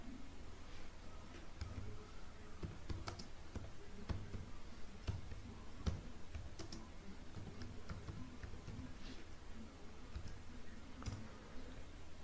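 Fairly quiet typing on a computer keyboard, scattered clicking keystrokes in an uneven rhythm over about twelve seconds, close by with no talking.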